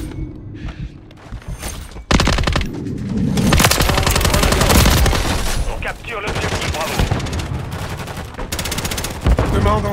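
Rapid automatic gunfire and scattered single shots from a Call of Duty match, loud and dense, with sustained bursts and thuds and occasional muffled game voices in between.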